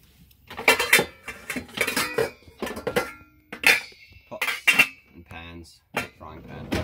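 Metal cookware knocked and shifted inside a motorhome kitchen cupboard, a series of sharp clanks and clinks in irregular bursts, close by, with speech between them.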